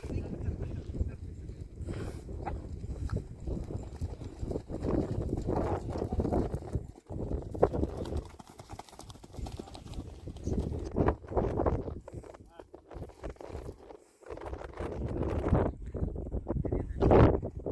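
Steady hoofbeats of racing horses clip-clopping over open ground at a horse race in Kutch, with wind buffeting the microphone and faint voices now and then in the background.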